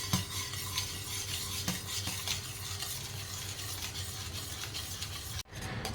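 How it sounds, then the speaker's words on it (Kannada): Milk and sugar boil in a pot while a spoon stirs them, making a continuous soft sizzle with scraping and clinking against the metal, steady and fairly quiet. "ಸೊ ಇವಿಷ್ಟು ಚೆನ್ನಾಗಿ ಇದನ್ನು ಸ್ವಲ್ಪ ಕಲರ್ ಚೇಂಜ್ ಆಗೋ ತನಕ ಕುದಿಸ್ಕೊಳ್ತೀನಿ."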